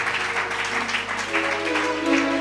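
A church congregation applauds steadily in a dense, continuous clatter of clapping, with sustained tones and possible voices mixed underneath throughout.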